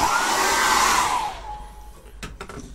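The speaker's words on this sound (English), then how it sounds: "And I'm gonna dry that once more." A hair dryer blasts over thin acrylic paint, a loud whooshing hum that winds down after about a second, followed by a few soft clicks and knocks in near silence.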